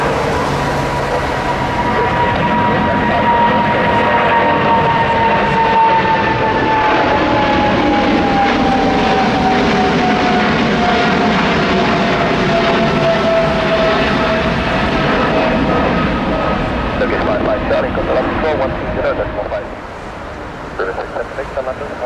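A British Airways Boeing 777, G-ZZZB, on its final flight, roars down runway 27 right at London for takeoff. The loud, sustained engine rumble carries a slowly falling whine that fades toward the end.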